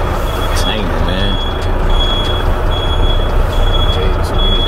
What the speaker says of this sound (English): Trying to back right in under that white trailer right there without hitting this damn container